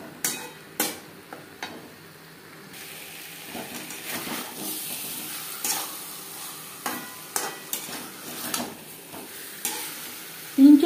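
Potatoes stir-fried with spices over a medium flame for kosha alur dum: a steady soft sizzle broken by repeated scraping stirs and spatula taps against the pan, close and moderately quiet.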